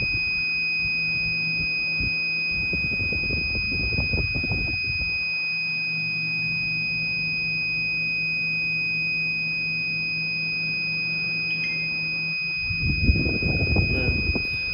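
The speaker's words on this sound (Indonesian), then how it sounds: "Jadi ketika TDS naik ke angka tinggi, maka buzzer akan nyala sebagai indikator." Buzzer indicator on a TDS water sensor device sounding as a steady high-pitched electronic tone throughout, with faint handling noises in the background.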